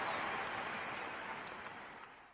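A French Open tennis crowd applauding and cheering a break back, sustained dense clapping that starts full and slowly fades, heard from a distance.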